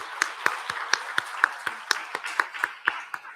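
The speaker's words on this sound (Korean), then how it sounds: "예, 박수하겠습니다." A church congregation applauds during a Sunday morning service at Juyeonggwang Church in Beon-dong, with sharp, evenly spaced claps in a quick steady rhythm that stays moderately loud and close for a few seconds.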